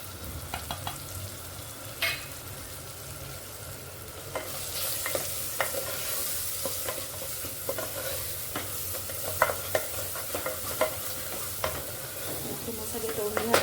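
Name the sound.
frying spices with tomato in a pan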